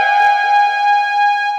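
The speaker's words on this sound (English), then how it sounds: "Same time, we have to sound the alarm." Alarm siren effect played on a reggae chart radio show: a steady, loud, piercing electronic tone with a run of quick repeated downward chirps pulsing beneath it, lasting about a second and a half.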